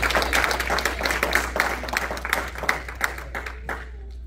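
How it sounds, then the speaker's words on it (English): A church congregation claps in appreciation, a dense, steady patter of many hands, close and loud, that thins and fades out toward the end. "Give a hand clap of appreciation"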